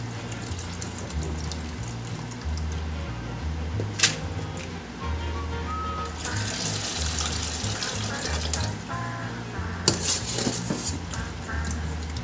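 Soaked rice for chicken biryani draining in a strainer, a steady close rush and trickle of water running off the grains, with a couple of brief clinks partway through.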